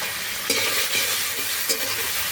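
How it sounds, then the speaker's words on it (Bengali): Tomatoes go into a sizzling pan of spiced potatoes, a steady frying hiss broken by a few sharp stirring scrapes near the mic, with no voices. "আমি এখন টমেটো দিয়ে দিচ্ছি।"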